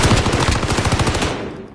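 Rapid light machine gun fire from an LMG in Call of Duty Warzone, a loud continuous burst of closely spaced shots that trails off near the end, with no voices over it.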